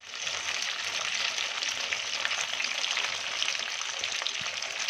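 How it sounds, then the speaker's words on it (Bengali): Chicken frying in a pan for a chili garlic pepper chicken dish, a dense, steady sizzle and crackle that runs evenly and fairly loud from start to end with no talking. "ঠিক আছে, ভেজে নাও তারপরে তুলছি। সবে এক খোলা ভাজা হয়েছে চিকেন।"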